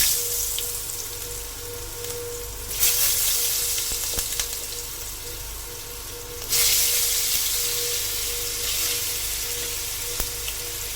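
Potatoes fry in salted hot oil for an egg curry, giving a steady close sizzle that swells into two louder crackling surges a few seconds apart.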